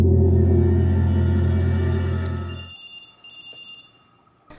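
A telephone rings loud and close in a horror film scene as Lara calls Stenio while he is at work. The ring is steady and unbroken for under three seconds, then cuts off into near silence.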